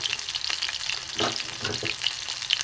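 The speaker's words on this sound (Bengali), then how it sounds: "ভেজে নেবো এভাবে, উল্টে পাল্টে ভেজে নেবো।" Bombay duck fish fritters sizzle in oil in a well-used, stained wok while they are turned over, a close, continuous crackling fry with small spatula knocks and no voices.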